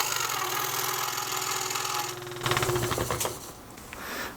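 An older Hegner scroll saw runs with a fast, steady reciprocating buzz and rattle, continuous and close, shifting in tone partway through as the blade bites into the cut.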